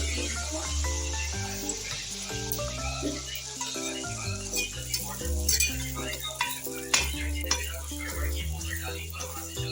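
Spoonfuls of malpua batter frying in hot oil at low-to-medium heat, a close, continuous bubbling sizzle with light stirring clatter, steady throughout.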